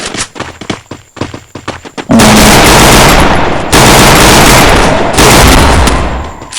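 Sustained automatic gunfire in the shooting game Free Fire, loud and close: quick bursts early, then long continuous volleys that fill the rest, with no talk over them.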